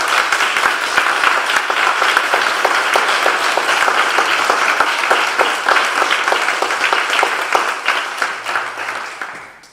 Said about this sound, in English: Will you now join me in a round of applause